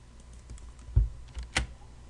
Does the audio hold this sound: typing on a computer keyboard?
yes